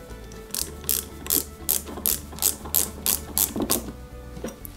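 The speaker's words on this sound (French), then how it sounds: "On la maintient en place et on visse par l'intérieur." A screwdriver driving an M screw from inside to fix a part of a 1/8-scale Altaya KITT Pontiac Firebird model, about ten evenly spaced, close ratcheting clicks with no talking.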